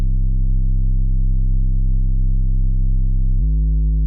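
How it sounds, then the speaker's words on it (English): A deep, smooth stock Logic Pro sub bass synth note holds steadily and loud, then drops to a lower pitch near the end; clean and plain with nothing else. "This is a stock Logic deep sub bass"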